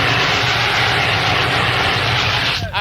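A fire extinguisher blasts a frozen turkey in one continuous, loud, rushing hiss that holds steady for a few seconds and cuts off abruptly at the end.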